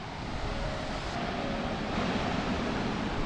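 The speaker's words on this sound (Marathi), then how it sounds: "आणि बरोबर अशा गोल लाटा येत आहेत." Waves roll in at Tivare harbour, a steady broadband wash of surf mixed with wind buffeting the microphone, continuous and fairly close with no voices.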